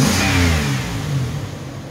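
A 2006 Pontiac Grand Prix engine revs up close by, a loud mid-pitched roar that swells and then eases back toward a steady idle over about two seconds.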